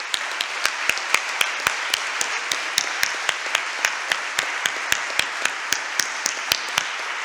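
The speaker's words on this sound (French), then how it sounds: "Vous pouvez les applaudir à nouveau." Audience clapping at a mock tribunal debate, heard as crisp, rhythmic, evenly spaced claps in a steady unison beat, fairly close and carrying on throughout.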